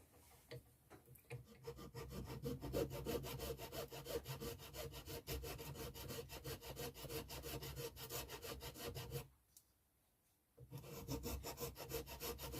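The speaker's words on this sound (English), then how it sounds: "Needs a bit more filing yet to get a better mating surface on there" Steady rhythmic strokes of a hand file rasping across a part, worked down toward a flat mating surface at close range, a brief pause near the end before the filing resumes.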